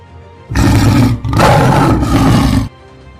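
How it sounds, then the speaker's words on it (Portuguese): A loud, deep monstrous roar bursts out in two long surges, growling and raw, filling the space with no voices around it. "a besta rugiu alto para o céu"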